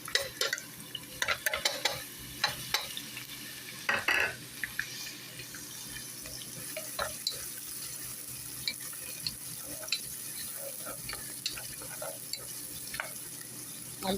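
Onions sizzle as they fry in a pan while a utensil stirs them, scraping and clattering in irregular bursts. A faint running-water sound sits under the steady frying hiss.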